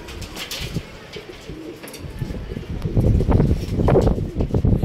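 Pigeons coo softly and repeatedly, with low throaty calls building louder toward the end amid faint rustling and a little background voice.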